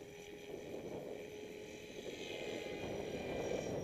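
Radio-controlled L400 helicopter with a VBar governor flying at steady rotor speed, giving a continuous even whir and buzz at moderate distance with no pauses and no voices.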